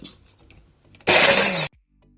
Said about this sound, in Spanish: Vamos a triturarlo muy bien.